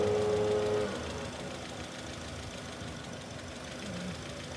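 An engine idles steadily with one fuel injector disconnected, an uneven, slightly rough rumble and faint knocking, a whine fading out after the first second.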